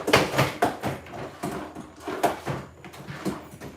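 Milwaukee Packout toolbox drawers slide open and shut in a quick series of close, rattling plastic clunks and scrapes, repeating irregularly with no talk over them.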